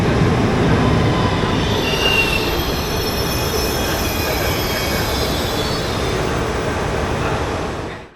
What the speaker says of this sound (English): And then our Italo train finally appears from the tunnel.